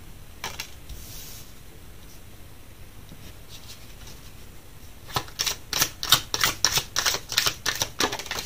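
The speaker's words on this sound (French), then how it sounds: "On va tirer des cartes de tarot." Tarot cards are shuffled and drawn by hand: quiet handling at first, then a quick run of crisp, clicking card riffles close by.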